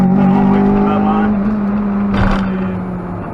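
A Honda Civic Type R EP3 engine held at high revs under full throttle gives a loud, steady drone with a brief rougher burst partway through, easing slightly toward the end.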